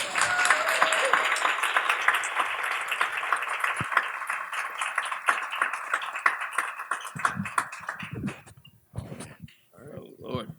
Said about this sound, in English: So please give our guests a warm round of applause.